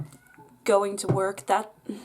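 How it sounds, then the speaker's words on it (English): A pet cat meows twice, loud and close, its drawn-out cries interleaved with someone speaking indoors. "That's my cat meowing"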